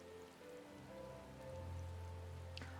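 Steady rain falls in Final Fantasy XIV, hissing evenly on surfaces beneath a low sustained tonal drone, with no speech.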